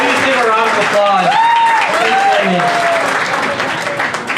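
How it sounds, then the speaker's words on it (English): Wedding guests applaud in a continuous, loud wash of clapping, with voices and cheers rising over it throughout. "Please give a round of applause."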